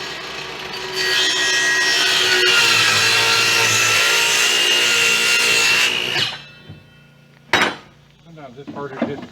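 A power saw rips through a piece of lumber for an off-grid cabin cooler stand, a loud sustained whining cut of about five seconds that ends abruptly, followed by a sharp knock and some faint handling clatter.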